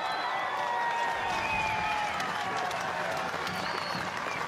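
Rugby crowd at the Lochore Cup final applauding and cheering after a try, a fairly distant, steady roar of clapping and voices that stays even throughout.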